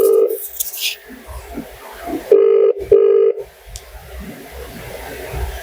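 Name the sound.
telephone ringing on an outgoing call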